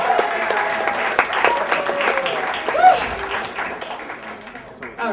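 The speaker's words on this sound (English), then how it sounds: "let's applaud for the audience because you guys are killer listeners" An audience at a poetry reading applauds: dense, steady clapping from a crowd fills the room, with a few voices and cheers mixed into the continuous applause.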